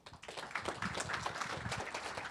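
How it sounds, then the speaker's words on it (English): A faint audience applauds at a climate innovation talk in Chicago, with soft, distant clapping filling a couple of seconds without speech. "Give a round of applause for Ian."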